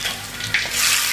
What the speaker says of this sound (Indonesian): kita kasih minyak panas dulu